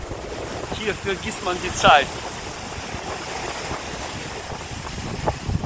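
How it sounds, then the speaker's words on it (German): Ocean surf rolls onto a beach at Maspalomas, Gran Canaria, a continuous broad wash with wind buffeting the microphone while a person speaks over it. "Heute haben wir ein bisschen Brandung hier"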